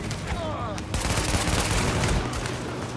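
Dense salvos of gunfire fill a siege battle in the video game The Division, rapid shots layered into a loud, continuous barrage with only brief gaps.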